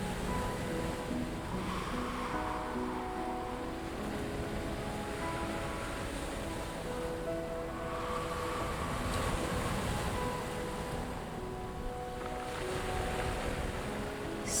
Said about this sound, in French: Seul le doux bruit des vagues nous rappelle une nouvelle fois alors à l'apaisement régulier